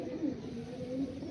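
Malwai pigeons give a short, soft, low cooing call, close by, with a faint hum of the surroundings underneath.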